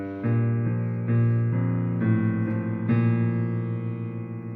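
A piano plays a passage from a song, with legato chords shifting every half second or so, sustained and close, with no voices.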